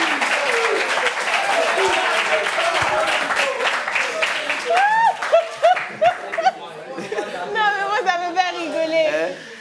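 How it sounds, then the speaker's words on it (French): An audience applauds the doctors of Côte d'Ivoire at a gathering, clapping mixed with chatter and laughter that tapers off as scattered voices and chuckles take over, close and lively. "Applaudissements pour les médecins de Côte d'Ivoire"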